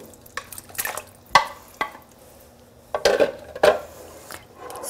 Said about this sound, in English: Stir it thoroughly.